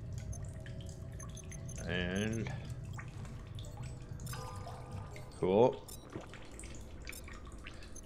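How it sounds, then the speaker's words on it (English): Water refilling in The Solus Project, a space exploration game: a brief splashing, trickling fill rises twice over steady ambient hum, while a voice talks briefly. "We're filled back up on water."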